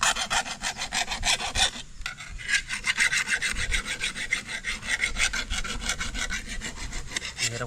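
Steady back-and-forth rasping of a file sharpening a cutting blade used for clearing grass on an ampalaya farm, a fast regular stroke rhythm running continuously and close, with one brief pause.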